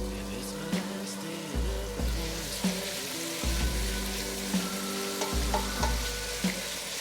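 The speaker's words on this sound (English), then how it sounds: "Then put in the pork and cook until brown." Pork browning in vegetable oil in a pot gives a steady, close sizzle and crackle, with repeated scraping stirs and clinks of a utensil at a regular pace, and no talking.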